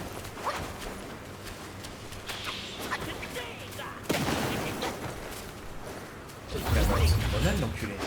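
A grenade going off in the video game Black Myth Wukong, with sharp crackling bursts followed by a sudden loud blast and then a heavier, deep rumbling explosion near the end, amid dense in-game noise.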